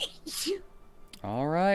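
A single sharp sneeze from a player at a Dungeons and Dragons tabletop session, brief and close, followed by someone talking.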